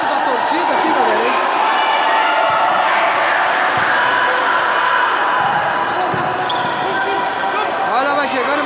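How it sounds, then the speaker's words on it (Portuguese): Supporters at a football match in Ferroviária, a continuous loud roar and hiss of the crowd with whistles and chants, under a commentator's voice. "E o chiado da torcida aqui"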